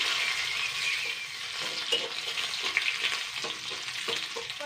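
Crushed garlic and green chillies frying in hot oil, a loud, close, continuous sizzle with scraping stirring strokes coming through it and no voices.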